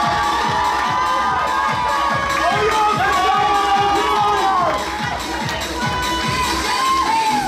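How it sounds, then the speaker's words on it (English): A crowd at a men's physique bodybuilding competition cheers and whoops loudly, with high shouts and rhythmic clapping or stomping running throughout at a close, dense level. "Round of applause for Sito and Vasily."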